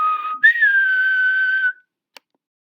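A worm character whistles one very loud, sustained note that slides slightly and holds for about a second and a half before cutting off. A faint click follows, then silence. No one talks.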